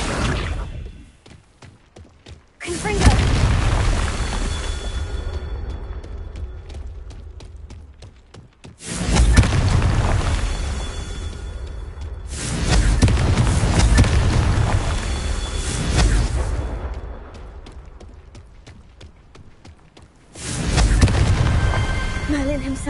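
Confringo fire spell explosions in the Hogwarts Legacy video game, with several loud, rumbling blasts arriving every few seconds and each trailing off into quieter stretches before the next burst.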